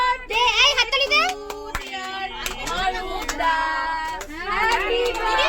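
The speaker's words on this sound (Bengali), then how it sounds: "দে এই হাততালি দে।" Family members clap along on a train during a birthday cake-cutting on the way to Puri, sharp hand claps scattered beneath close voices singing and chattering.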